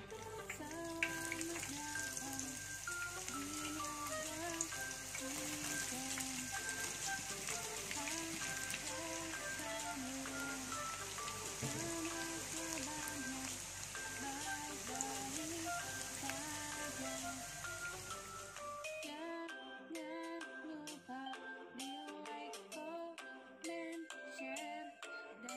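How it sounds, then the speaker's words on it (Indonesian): Tempeh frying in a pan gives a steady, dense sizzle and crackle that carries for most of the stretch, then abruptly drops to sparse pops and spatters near the end; no one speaks. "Kita goreng dulu ya tempenya."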